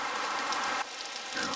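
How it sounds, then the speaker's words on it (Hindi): Dense, steady rain hiss fills the clip, broadband and continuous, with a slight drop in intensity partway through. No voices. "बहुत ही बारिश होने लगी"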